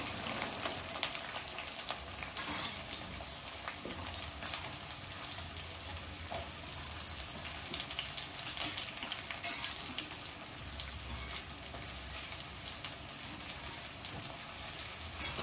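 Dried prawns and chopped onions frying in a pan, a continuous close, even sizzle and crackle with faint stirring and no speech.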